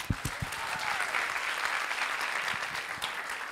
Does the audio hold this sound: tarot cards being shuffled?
no